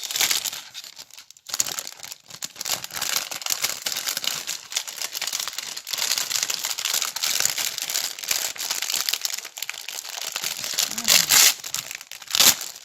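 Continuous close crinkling and crumpling of paper as a package is unwrapped, with brief tearing bursts and rustles that rise and fall throughout.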